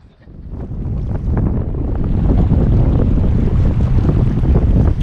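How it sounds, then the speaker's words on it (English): Gusty wind buffets the microphone beside rough, choppy water at a kayak and SUP demo day with a Native Watercraft Titan Propel pedal kayak, a steady loud low roar with lapping waves and no voices. "the water is a little rough today, and they didn't expect this much wind today"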